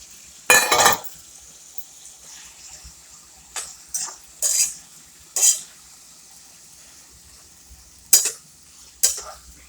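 Ridge gourd being tossed into frying onion in a pan and stirred, heard as a handful of short, bright scraping bursts spaced a second or so apart over a low, quiet sizzle, with no talking.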